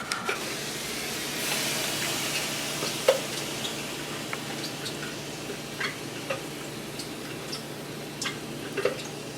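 Food cooks down in about two tablespoons of avocado oil in a big, hot nonstick skillet: a quiet, steady sizzle dotted with scattered small pops and ticks, no talking.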